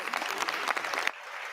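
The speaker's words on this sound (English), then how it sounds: "Yeah, clap like little trained seals." Applause on the floor of the U.S. House of Representatives during the vote on removing the Speaker, a dense burst of clapping from many hands that cuts off abruptly after about a second, leaving a quieter room tone.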